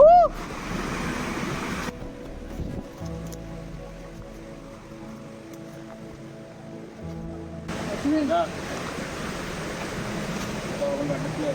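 Steady rushing water fills the clip, a broad continuous wash like a flowing forest stream at Manikgad fort, with a quieter, more muffled stretch in the middle.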